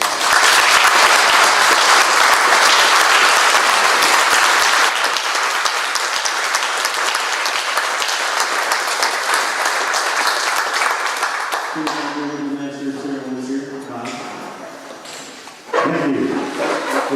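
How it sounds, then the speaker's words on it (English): A crowd's sustained applause for World War II veterans at Lyons Farm fills the first twelve seconds loudly, then fades as voices and a brief cheer take over. "one more round of applause for all our veterans"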